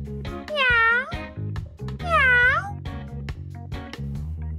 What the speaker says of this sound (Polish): Co to? Kot? U mnie?